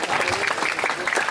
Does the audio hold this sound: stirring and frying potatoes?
no